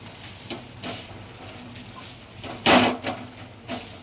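A chicken dosa pressed flat on a hot pan over a high flame gives a soft, steady sizzle broken by light knocks and scrapes, with one louder sharp crackle midway.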